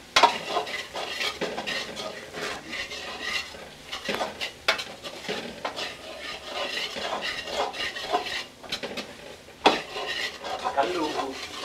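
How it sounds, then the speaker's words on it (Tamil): Tomatoes sauté in a pan for prawn thokku while a spoon stirs, scraping and clinking repeatedly over a soft continuous sizzle, close up with no talk. "தக்காளி நல்லா வதங்குற வரைக்கும் கொஞ்சம் வதக்கணும்."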